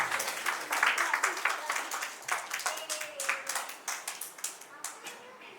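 An audience at a Gujarati music evening claps together in a quick, dense burst of applause that gradually thins and softens toward the end.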